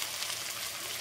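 Small potato pieces frying in a pan make a brief, even, close hiss of sizzling oil, with no talking.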